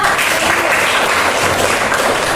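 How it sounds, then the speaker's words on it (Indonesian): Loud, close applause fills a classroom during a biology lesson, a dense, even patter of many hands clapping throughout. "Berikan aplaus dulu pada"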